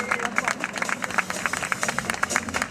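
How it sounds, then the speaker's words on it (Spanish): Crowd applause at the start ceremony of the 2018 rally in A Coruña: dense, steady clapping from a large audience, loud and sustained throughout, with scattered individual claps standing out. "Aplauso fuerte."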